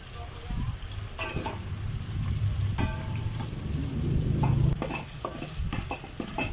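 Chopped tomatoes sauté in a hot pan for lapu-lapu fish sinigang, a steady sizzle with scraping and clinking as they are stirred, close and moderately loud.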